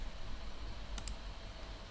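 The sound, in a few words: computer mouse clicking in Adobe software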